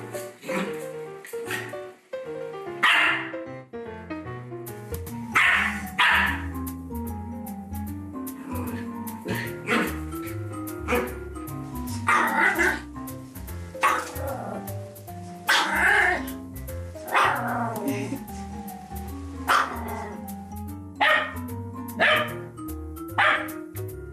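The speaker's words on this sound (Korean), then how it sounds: "가끔은 거울 보고 막 짖다가 쟤도 계속 따라 짖잖아요" A dog barking repeatedly at its own reflection in a mirror, with bursts of barks and yips in an irregular rhythm, fairly close, mixed with people talking.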